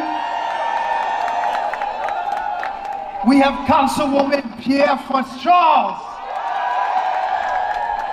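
A crowd at a community gathering bursts into cheers and whoops for a dignitary being introduced, loud for a few seconds between stretches of someone speaking.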